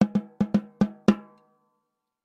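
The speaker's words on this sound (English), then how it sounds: "without the snare wire turned on, it sounds more like a tom-tom." A drum with its snare wires off struck six times in an uneven rhythm, giving hollow, tom-like thumps that ring briefly, then silence.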